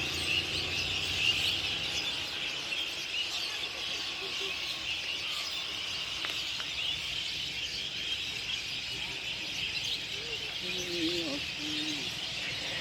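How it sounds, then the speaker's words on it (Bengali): Thousands of birds gather at an evening roost in trees, making a dense, continuous wash of high chirping that stays fairly faint and distant throughout. "দেখতে পাচ্ছেন পাখিদের কিচিমিচির শব্দ আমরা শুনতে পাচ্ছি।"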